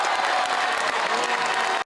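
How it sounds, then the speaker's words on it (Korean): A crowd at a Korean political party rally claps in a continuous, dense wash of applause for a speech by Cho Kuk, with faint cheering mixed in, steady throughout before cutting off abruptly. "인사하고 박수갈채 나오죠."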